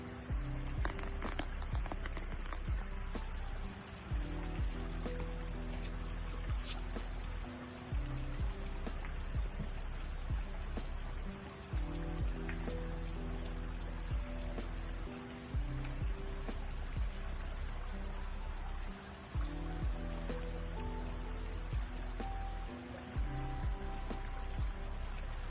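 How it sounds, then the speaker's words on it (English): Continuous broadband rush of water from a waterfall on a solo hike, steady and fairly close, with no talk, only small shifts in level as the falling water churns. "It's just me in this waterfall."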